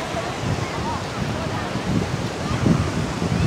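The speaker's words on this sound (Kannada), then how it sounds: "ತುಂಬ ಅಲೆ ಜಾಸ್ತಿ ಇದೆ ಮತ್ತು" Continuous crashing of ocean waves at close range on Panambur Beach, Mangalore, a dense rushing wash that swells slightly near the end, with wind noise mixed in.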